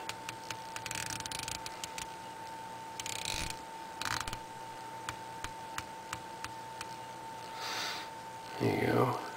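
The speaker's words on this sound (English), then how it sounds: "Unidirectional bezel, good for 120 clicks." A Tag Heuer Aquaracer quartz watch's unidirectional 120-click bezel turns in a series of sharp, irregularly spaced clicks, close and crisp against a steady faint hum, with a few brief louder handling rustles.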